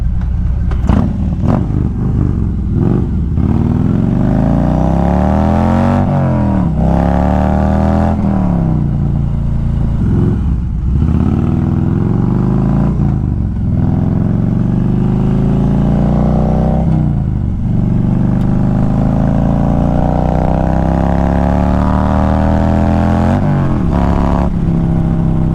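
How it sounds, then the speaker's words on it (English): Built 124-cubic-inch Harley-Davidson Road Glide engine revs hard and repeatedly, loud and close, with throttle blips rising and falling over a steady rumbling idle and sharp crackles between pulls. "I honestly just wanted to hear the motor."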